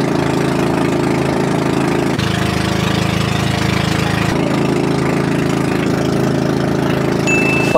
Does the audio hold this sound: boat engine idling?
yes